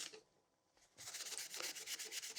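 Brush scrubbing the inside of a Singer Featherweight 221 sewing machine case, faint at first, then quick rhythmic rubbing strokes up close.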